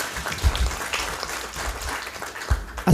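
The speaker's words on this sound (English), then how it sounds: "Let's appreciate him with a better clap, please." Applause from the audience at a stakeholder engagement workshop, scattered hand clapping of moderate loudness with a few louder claps and thumps mixed in, and a sharp bump at the very end.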